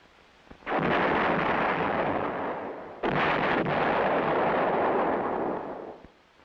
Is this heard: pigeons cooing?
no